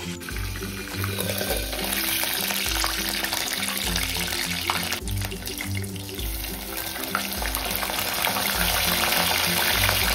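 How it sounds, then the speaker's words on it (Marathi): Mushrooms dipped in batter fry in oil under a lid in a covered pan over a low gas flame. A steady, close sizzle and crackle continues throughout, with no talk. "बॅटर मध्ये डिप करून मशरूम ना तेलामध्ये फ्राय करायला टाकायचं आणि त्याच्यानंतर अशा पद्धतीने झाकण ठेवायचं"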